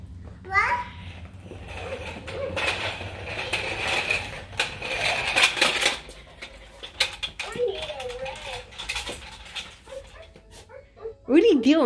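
Dog whimpering and letting out small yips and barks indoors, mixed with a child's babbling and other voices talking over it, with a sharper burst near the end.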